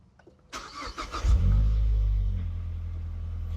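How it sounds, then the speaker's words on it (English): A Mazdaspeed car engine cranks and catches after a power steering fluid flush, settling into a loud, steady low idle rumble close by, with a few clicks and a brief whir before the start. "All right, let's start the car."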